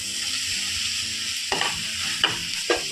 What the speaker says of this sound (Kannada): ಮಶ್ರೂಮ್ ಹಾಕ್ತಾಯಿದ್ದೀನಿ.